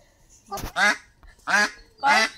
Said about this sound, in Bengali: এই যে হচ্ছে হাঁস, হাঁসে যে কতকত করে